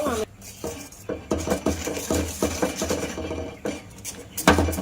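A spoon stirs boiled mango into cooked sago in a pan, giving close, irregular clinks and scrapes against the metal with soft, wet squelching between strokes.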